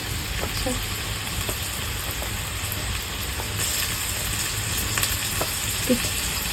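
Garlic frying in hot oil for a spicy goat curry gives a steady, dense sizzle close up, with occasional soft stirring clicks and light pops over the continuous hiss.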